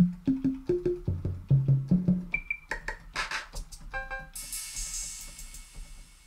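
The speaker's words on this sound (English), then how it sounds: "And then I'm gonna go to the trap kick." Trap kick drum from a Boom 808 percussion synth, struck repeatedly in a fast rhythmic run with pitched booming low thumps sliding in tone, followed by bright higher synth percussion hits and a noisy burst, loud and alone.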